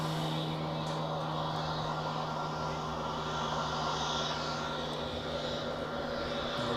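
A Swiss Airbus A320neo jet comes in to land at Zurich Airport, heard as a steady broadband engine roar with a low hum running underneath it throughout.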